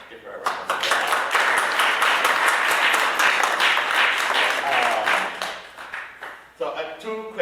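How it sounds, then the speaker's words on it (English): Audience applause at a book event celebrating a novel, a sustained dense wash of clapping from a room full of people, loud and steady before tapering off near the end. "So let's give her a round of applause."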